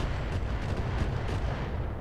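Mech weapon fire in a BattleTech game, a sustained heavy booming barrage with several soft thumping pulses over a continuous low rumble, moderately loud and with no voices.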